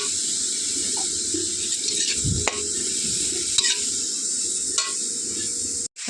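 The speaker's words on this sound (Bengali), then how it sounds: "এটাকে হালকা করে একটু সটে করে নেব" Capsicum and onion sautéing in a pan, a steady close sizzle and crackle running throughout, with scrapes of a spatula stirring and a couple of brief knocks, no talk.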